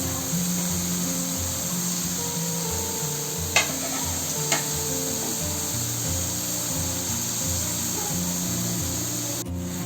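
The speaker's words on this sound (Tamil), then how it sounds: "எண்ணெயோட சலசலப்பு பாருங்கள்" Potato chips fry in hot oil on medium heat, giving a steady dense sizzle and crackle throughout, with a couple of sharp utensil clicks partway through.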